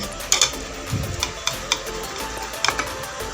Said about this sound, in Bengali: এখানে আমি একটি ডিম নিয়েছি, সিদ্ধ ডিম, আর গ্রেটারের সাহায্যে গ্রেট করে নিব